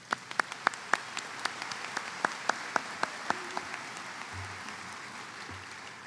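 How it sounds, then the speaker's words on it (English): Audience applause at a university baccalaureate service fills the room with a steady patter of many hands, with sharper individual claps standing out early before the sound thins and fades toward the end. "Let's do a round of applause."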